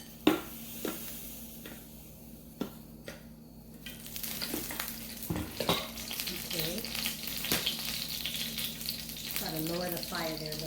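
Garlic cloves hit a hot pan and begin frying for stuffed eggplant parmesan. A few light knocks and clinks come first, then a steady close sizzle rises and holds, with occasional stirring scrapes.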